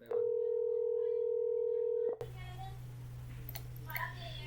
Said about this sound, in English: It was just ringing